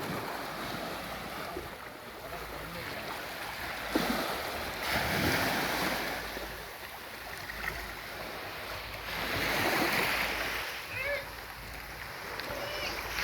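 Waves wash along the seashore in Bohol where many small fishing boats sit, a steady broadband surge with gusting wind noise and louder swells rising around the middle and end, continuous throughout.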